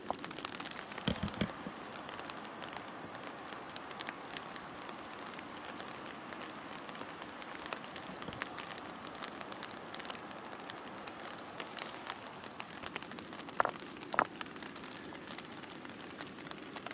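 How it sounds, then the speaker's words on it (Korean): Rain falling by the Donggang river in Korea, a soft steady patter and hiss with occasional small drips and taps, faint and continuous without speech. "비가 와서"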